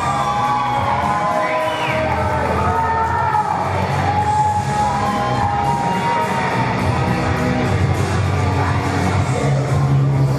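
Wrestling crowd roaring and whooping as a wrestler steps into the ring, a loud, dense and continuous cheer with shouts and whistles rising above it throughout.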